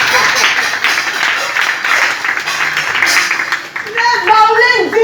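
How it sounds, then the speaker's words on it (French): Loud applause from an audience at a staged African folktale performance swells as a dense wash of clapping, continuing under a speaking voice and then music before fading. "on applaudit très fort pour elle."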